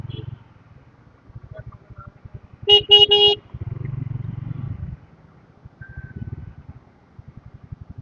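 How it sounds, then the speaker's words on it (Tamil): Busy road traffic heard from a ride: low vehicle engine rumble throughout, with one loud, close car horn blast in the middle and a couple of faint distant toots. "இவ்வளோ டிராஃபிக்காக இருக்குதே"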